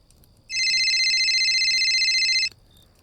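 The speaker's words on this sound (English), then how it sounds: "Around 7 p.m. my phone rang." A phone rings in one steady electronic tone that starts abruptly, holds loud and even for about two seconds, then cuts off cleanly against a quiet background.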